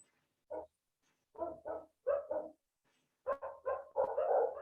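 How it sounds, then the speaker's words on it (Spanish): A dog barks in the background of an online class, several separate groups of short barks, some doubled, fairly loud and picked up through a microphone, with no talking. "Yo escucho un perro"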